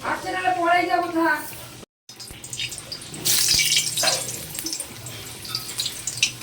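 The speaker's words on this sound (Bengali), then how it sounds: "আমি আলুটাকে আগে ভেজে নিচ্ছি।" Potato pieces frying in a pan as the first step of a mutton curry, with a voice briefly at the start, then a broad, steady sizzle and hiss with a few sharper bursts close by.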